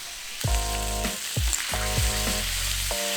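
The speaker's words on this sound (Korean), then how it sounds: "식용유를 넣은 팬에 고기를 넣고 불 조절로 수분을 날리면서 구웠습니다." Beef sizzles steadily in a hot pan with cooking oil, with a few low thumps and scraping stirs breaking in at intervals.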